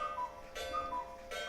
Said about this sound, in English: All the clocks are going off.